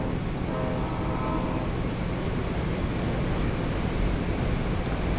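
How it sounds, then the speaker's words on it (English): A branch line train runs in Train Simulator as it nears the Cumberland Mountain Tunnel, with a steady, loud rumble of wheels and engine and a faint high whine on top. "Here we are about to enter the Cumberland Mountain Tunnel as the branch line train crosses over the tunnel"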